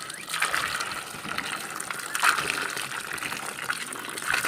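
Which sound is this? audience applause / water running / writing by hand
water running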